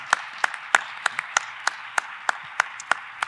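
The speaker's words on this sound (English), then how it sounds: "Let's do a round of applause." A small audience at a sea level rise forum gives a sparse round of applause: distinct, evenly spaced claps at roughly three per second, crisp and moderately close, with quiet background between them.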